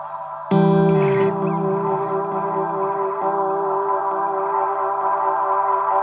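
A sustained electronic tone through a TC Electronic Flashback delay pedal set to 120% feedback swells into a dense, washing echo that keeps building and layering on itself, loud and unbroken to the end.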